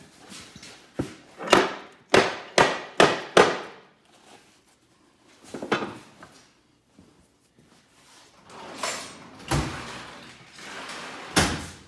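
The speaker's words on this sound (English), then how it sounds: "take a hammer." Sharp metallic hammer blows strike an F23 five-speed transmission case in quick bursts, a run of five evenly spaced hits, then scattered single knocks and a couple of heavier final strikes.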